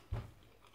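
A single soft bite into a chewable smoothie made with real banana, a brief close, low crunch near the start followed by quiet, with no voices.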